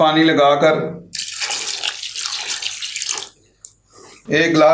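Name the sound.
pouring a glass of water into beef karahi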